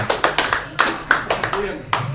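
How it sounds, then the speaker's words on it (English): Applause from a small live-show audience at the RMA after Ade Cull's set, heard as sparse, distinct hand claps at an uneven rhythm, fairly close and moderately loud, with a murmur of voices underneath. "give them a round of applause"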